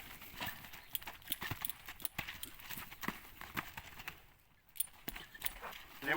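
A horse shuffling backwards on its hooves while being started, giving a series of soft, irregular hoof scuffs and thuds close by with no talking.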